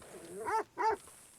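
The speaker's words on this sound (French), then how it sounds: "Oh le chien." A dog in the video game Red Dead Redemption 2 gives two short, clear barks close by, separated by a brief pause.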